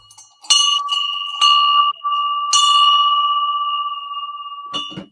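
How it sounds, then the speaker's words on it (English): A brass nautical bell is rung in several quick strikes, each bright metallic clang ringing on with a sustained tone between hits, close and loud with no talking. "we have sold brass bells like this nautical bell for really good money"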